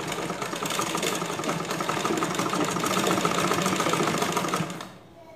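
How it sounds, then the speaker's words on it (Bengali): A sewing machine runs steadily as it stitches thick cloth for baby diaper pads, a close, rapid mechanical whir and clatter that stops abruptly near the end, with no talking. "আপনারা টেনে টেনে সেলাই করবেন কাপড়টা মোটা ওই জন্য আস্তে আস্তে সেলাই করবেন"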